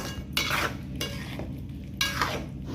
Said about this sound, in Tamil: இப்போது காளானை போட்டு நல்லா மிக்ஸ் பண்ணி விட்டுக்கோங்க.